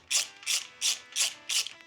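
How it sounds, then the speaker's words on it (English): Five evenly spaced ratchet clicking bursts, close and distinct, as bolts on a Harley Dyna primary outer housing are loosened one by one. "remove the bolts from the primary outer housing"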